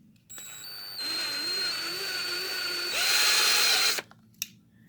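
A power drill bores a hole in a Hot Wheels 1/64 diecast base, whining steadily for about three seconds and then rising louder and higher before cutting off, with a brief clack afterward.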